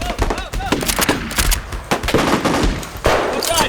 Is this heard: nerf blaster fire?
yes